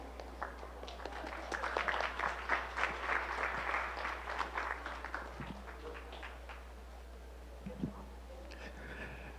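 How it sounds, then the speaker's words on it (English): Spectators at a 4-H provincial beef show applaud a class of bred heifers in the ring, scattered clapping that swells to a full round, then thins out into a few last claps over a low steady hum. "So give this class of bred heifers a round of applause."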